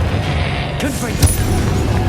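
A Confringo fire-blast spell bursts in Hogwarts Legacy, a short, sharp blast that stands out above steady game ambience, with a voice audible around it.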